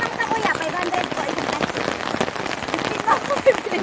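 Rain falling outdoors during a street fish-selling round, a dense patter of drops on surfaces, close and steady, with people talking faintly underneath.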